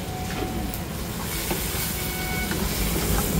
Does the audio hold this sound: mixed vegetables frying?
yes